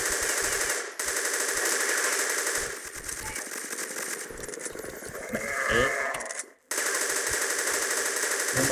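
Kriss Super V submachine gun fire in the online shooter Crossfire, a loud dense continuous rattle of rapid shots that runs nearly unbroken with a brief gap near the end.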